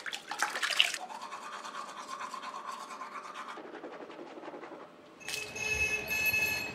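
Teeth being brushed with a toothbrush, a steady close scrubbing and rasping that runs for several seconds, followed by a brief watery burst at the end.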